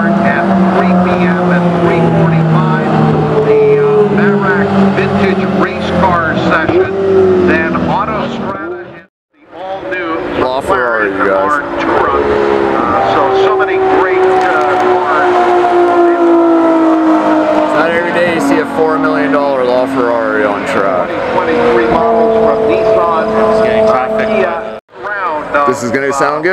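Loud, sustained engine roar of Ferrari cars passing fast on a racetrack, with rising and falling pitch sweeps and brief gaps, continuous throughout.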